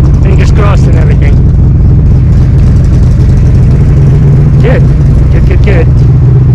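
A Shelby Cobra replica's engine idles loud and close in a garage, a deep steady rumble running the whole time, with brief clinks and shuffling noises now and then.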